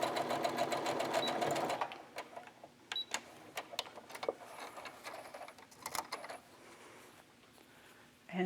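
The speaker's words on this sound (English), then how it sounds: "I'm going to live dangerously here and just sew down." Home sewing machine stitching down a short piece of fabric for a little girl's dress, a steady rapid whir and needle clatter for about two seconds, then sparse clicks and handling taps as it stops.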